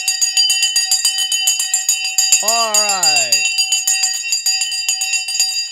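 A stock market opening bell rings in rapid repeated strikes throughout, loud and sustained, while a brief voice speaks over it partway through.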